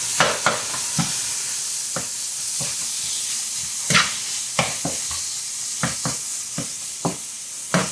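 Beef stir fry with red chili being stirred in a hot pan, a steady sizzle under repeated sharp scrapes and clacks of the utensil against the pan at irregular intervals, close and clear with no talk.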